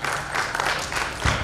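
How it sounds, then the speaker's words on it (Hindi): A crowd at an international Kathak dance competition applauds to welcome a guest, with brief, steady, mid-distance clapping. "जोरदार तालियों से उनका स्वागत और अभिनंदन"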